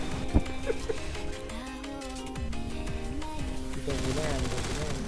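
Gunfire in the Roblox shooter Aimblox while the player jumps, a sharp shot near the start followed by scattered game effects and music, under excited talking.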